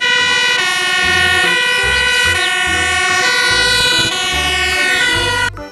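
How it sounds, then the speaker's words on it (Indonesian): A loud electronic toy fire truck siren wails continuously up close, with a pulsing, rhythmic low tone underneath. "lihat di sini ada mobil pemadam kebakaran"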